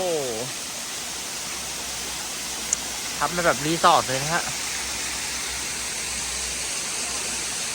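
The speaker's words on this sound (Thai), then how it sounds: "มีน้ำตกส่วนตัวด้วย" Continuous rushing hiss of a small private waterfall close by outside resort rooms in Uthai Thani, Thailand, with someone speaking briefly over the steady roar.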